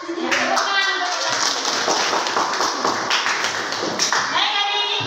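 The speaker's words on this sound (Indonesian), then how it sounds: "tepuk tangan untuk kita" Classroom of ninth-grade students clapping hands together, a dense, continuous patter of many hands at close range filling the whole stretch, with children's voices mixed in.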